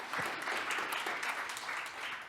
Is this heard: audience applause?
yes